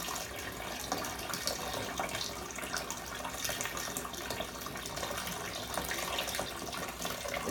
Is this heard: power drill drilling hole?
no